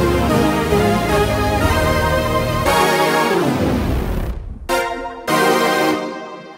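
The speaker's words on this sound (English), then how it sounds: "To get a really nice SYNTH Brass," A layered synth brass patch from Omnisphere plays bold sustained chords that swell, then cut off into short staccato stabs and a final held chord, loud and alone without any voice.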